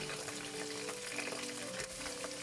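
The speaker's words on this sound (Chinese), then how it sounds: "调到最大火，把鸡块再次倒入锅中油炸，大约1分钟" Starch-coated popcorn chicken pieces deep-fry a second time in oil on the highest heat, giving a faint, steady bubbling hiss with a soft watery churn and no talking.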